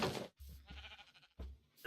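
A sheep bleats in Minecraft, with a few short, faint wavering calls separated by brief silences.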